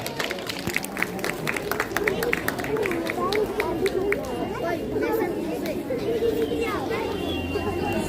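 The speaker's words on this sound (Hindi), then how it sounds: "जोरदार तालियां इनके लिए।" Applause at a school annual day and results ceremony for a student who was a district topper: a burst of clapping rises and fades under an announcer's voice and crowd chatter.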